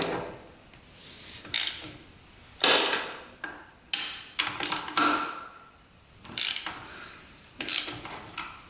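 Wrench loosening bolts on a Yamaha YFZ 450 race quad, with several separate bursts of close ratcheting clicks spaced by short quiet gaps.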